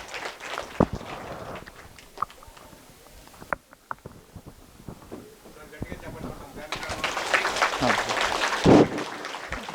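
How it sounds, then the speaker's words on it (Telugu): Audience applause welcomes a speaker onto the stage at a youth talk event, a dense clatter that starts after scattered noises and speech and swells loud through the final seconds. "సో వీరిని గట్టిగా చప్పట్లతో వేదిక మీదకి ఆహ్వానిద్దాము."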